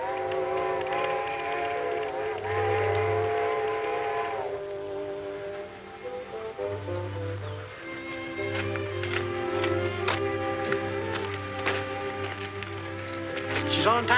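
A steam train arrives in a 1939 Western film set in Death Valley, its whistle sounding in long sustained blasts over a rumbling background with chugging and clanking as it pulls in.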